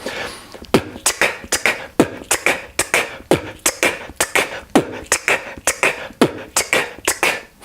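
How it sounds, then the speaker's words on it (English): A voice repeats the plosive consonants p, t and k as a warm-up drill, a steady series of short sharp puffs and pops in even rhythm, close to the microphone with no other speech. "These are called plosives"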